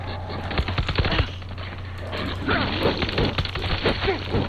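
Dense, rapid gunfire with rattling bursts and impacts in the World War Z zombie shooter, including an assault rifle, fills the whole stretch up close and loud, with a player's brief voice mixed in.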